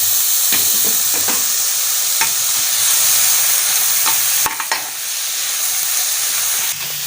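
Tomatoes with onion fry in a pan for a samosa omelette filling, giving a loud hissing sizzle with sharp stirring clicks, the sizzle dipping briefly partway through; no speech.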